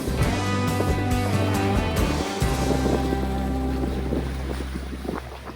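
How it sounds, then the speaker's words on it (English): Strong wind of about 13 to 15 knots buffets the microphone while a sailboat moves upwind through water at around 7 knots, with a low steady engine-like drone underneath and no talking. "The wind has picked up."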